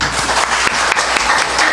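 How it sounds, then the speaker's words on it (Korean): A church congregation applauds its choir, a steady, dense wash of clapping from a full room with no voices over it, holding at an even level from start to finish. "우리 찬양대의 격려의 박수 하겠습니다."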